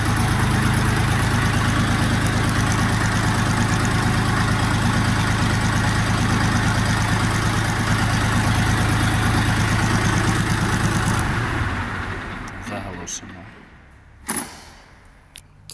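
A Dongfeng DF-244 G2 mini tractor engine idles steadily with a low, even chug for about eleven seconds, then cuts off, leaving quiet with a few faint knocks.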